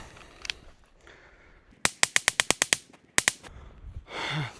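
Two bursts of .22 Long Rifle rounds fired at a tree: about eight sharp, evenly spaced shots, a short pause, then two more, loud and close against a quiet outdoor background.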